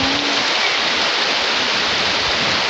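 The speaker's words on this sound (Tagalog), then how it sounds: "Lakas ng ulan." Dense, roaring wash of heavy rain pouring down steadily, loud and close with no breaks or voices.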